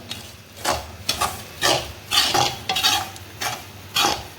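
Sambar rava, broken wheat, roasting in oil in a pan, with repeated rhythmic scrapes of a spoon against the metal over a soft sizzle, close and clear with no talk.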